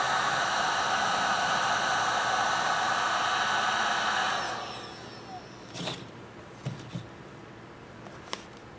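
A heat gun fitted with a deflector nozzle blows steadily while heating and loosening material during a bass guitar build, then switches off, leaving a few faint knocks and scrapes.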